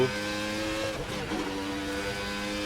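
The V10 engine of a 1990 Formula RSS car in the Assetto Corsa video game howls loudly and steadily, with a slight pitch dip and recovery midway as the car drives on.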